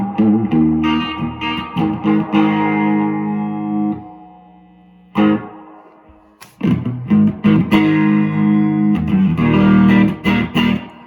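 An electric guitar played through a Music Man amp with reverb set to 2, chords and notes ringing out with a spacious reverb tail that lingers and decays during pauses.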